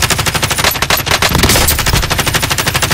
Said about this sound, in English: Stop shooting up there.